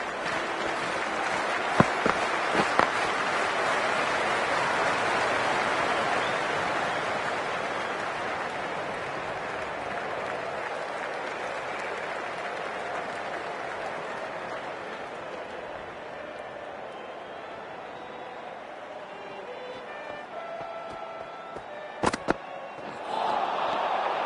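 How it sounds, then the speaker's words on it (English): A cricket crowd applauds and cheers before play gets underway, making a broad, sustained wash of clapping and crowd noise that slowly fades over the stretch, with a few sharp claps near the end. "already the crowd is up and about"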